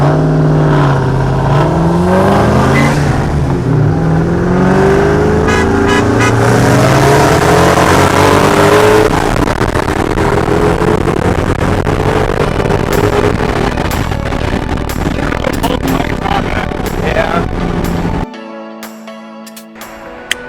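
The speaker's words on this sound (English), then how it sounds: "Let's do a quick second gear pull from like, I don't know, from like 30 or something from second gear." A supercharged 1996 Mustang SVT Cobra pulls hard in second gear, its engine and blower whine climbing steadily in pitch for about eighteen seconds before cutting off abruptly into quieter cabin noise.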